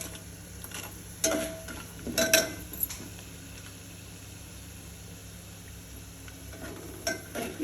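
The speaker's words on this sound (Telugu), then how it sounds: "రెండుగా విడిపోతుంటాయి పల్లీలు కూడా. కొద్దిగా ఇంకా కొంచెం వేగాలి." Peanuts fry in a pan with a low background sizzle, broken by a few sharp scraping and clinking bursts as a spatula stirs them against the metal.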